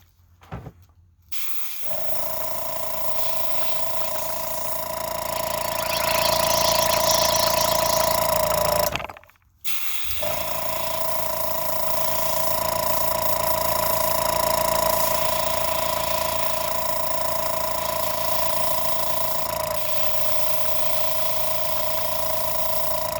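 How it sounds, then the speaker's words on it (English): An airbrush air compressor runs with a steady, loud motor drone and a constant whine, cutting out twice briefly before restarting and carrying on alone without talking. "I'm sure the compressor is loud and annoying"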